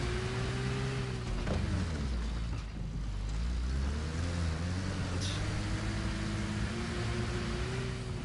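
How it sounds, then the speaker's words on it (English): A struggling vehicle engine in the Arma Reforger video game drones loud and constant with a strained low hum, its pitch wavering and dipping as it labors, one brief revving swell midway, and no talk. "This engine is suffering."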